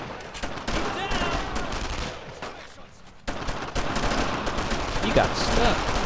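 Rifle and machine-gun fire crackles in rapid bursts during a World War II squad battle in the video game Brothers In Arms: Road to Hill 30, with soldiers shouting orders over the shooting.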